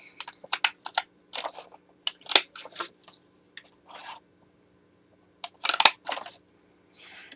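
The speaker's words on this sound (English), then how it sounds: "you're going to take your scallop corner trim punch and you're going to punch the 4 corners of this" Scallop corner trim punch working through the corners of a tone-on-tone card: a string of sharp, close clicks and crunchy snaps arriving in short bursts with quiet gaps between them, no voices.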